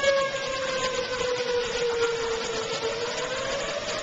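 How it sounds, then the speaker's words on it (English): A wavering emergency siren drones at a distance through a steady hiss of very heavy rain in Frisco, faint and continuous with no voices. "the sirens have just started up again"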